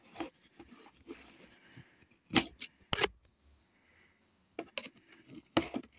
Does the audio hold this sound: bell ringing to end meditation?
no